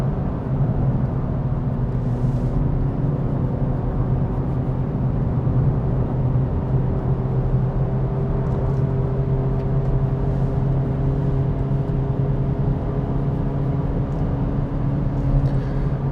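An Acura Integra Type S driving on a mountain road gives a steady, droning engine and exhaust hum with road noise, constant and fairly loud from inside the cabin.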